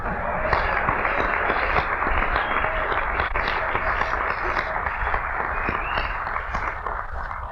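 Sustained applause from a dinner audience at a council gathering, a dense steady wash of clapping that holds at a constant level from start to finish with no voices standing out.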